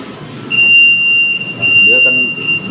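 A steady high-pitched electronic start-up alarm beep rings out from a Ghongzheng UV printer, holding continuously with brief breaks, under a low mechanical hum and some background talk.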